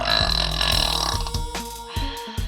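A woman lets out one long, loud, close burp that drags and rumbles for a couple of seconds before trailing off into a few shorter gurgling pulses.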